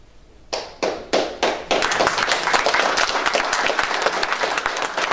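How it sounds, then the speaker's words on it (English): At a lecture in Rotterdam, one audience member gives four loud, evenly spaced single claps, then the whole crowd joins in with sustained, dense applause. "Everybody was scared as shit to clap again, but one brother did it 10 times"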